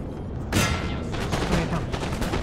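Cannon artillery fires in Napoleon: Total War with a sharp loud blast followed by a rattling string of further shots and distant booms, forming a continuous battlefield barrage.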